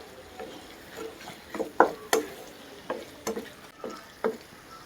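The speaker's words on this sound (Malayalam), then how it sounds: "പൊടികളുടെ പച്ചമണമൊക്കെ മാറുന്നവരെ നന്നായിട്ടൊന്ന് വഴറ്റിയെടുക്കുക" Spice powders sautéed in oil for a curry leaves curry, with a soft steady sizzle under a series of sharp spatula scrapes and clicks against the pan, close and fairly quiet.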